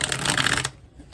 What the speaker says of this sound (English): Let's get a quick shuffle in before we get into that.